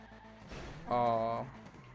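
A car in GTA V drifting, with a rising engine whine and a brief turbo-like whistle swelling for about half a second over the game's ambient sound, then fading back.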